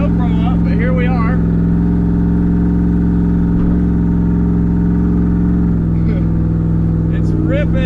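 Loud, steady car engine drone held at high revs during donuts, with talk and shouting over it throughout.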